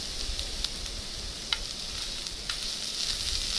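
Onions sizzle and fry in hot oil for a samosa filling, a steady close hiss with a few brief louder crackles and stirring spikes, no voices.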